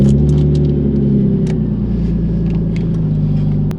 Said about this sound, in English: So first things first, obviously, let's get the car started.